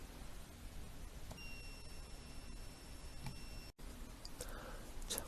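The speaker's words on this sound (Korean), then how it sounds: "LED를 켜는 것과 같은 방식으로 부저에서 소리를 낼 수 있습니다." A faint electronic buzzer sounds one thin, sustained high tone for a couple of seconds over quiet background noise, with a few soft clicks.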